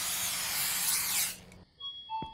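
A steady hiss of a spray can held down for over a second, then cutting off, followed by faint game tones.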